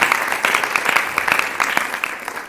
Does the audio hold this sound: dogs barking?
no